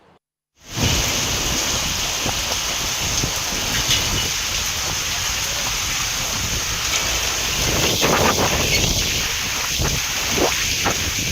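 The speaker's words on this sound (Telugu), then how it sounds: "విజయవాడలో వర్షం దంచి కొడుతోంది. భారీ వర్షం కురుస్తోంది." Heavy rain pours steadily in a dense hiss in Vijayawada, with wind gusts rushing through, loud and continuous after a brief silent start.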